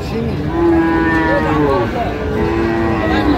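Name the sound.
Friesian bull mooing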